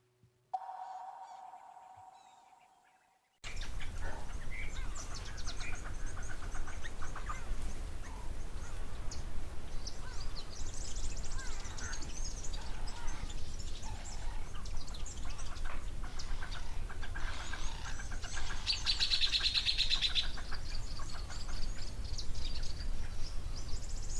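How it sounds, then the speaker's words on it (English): Dense outdoor birdsong at a waterhole, with rattling cisticolas and sunbirds chirping and trilling steadily in the background throughout, after a brief quiet opening of other sound. "You hear lots of birds in the background, rattling cisticulars and your sunbirds"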